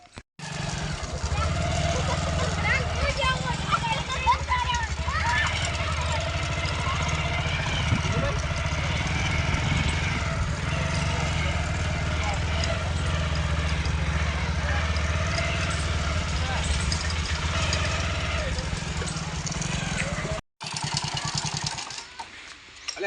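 A motorcycle engine idles nearby with a steady low drone, while people talk over it throughout, and there is a brief break near the end.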